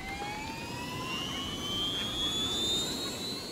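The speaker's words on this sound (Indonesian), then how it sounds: "Helikopter terbang ke dalam kamar dan melakukan pencarian dari atas." A helicopter in an animated toy cartoon flies into a room with a steady, rising jet-like whine, moderately loud and continuous with no voices.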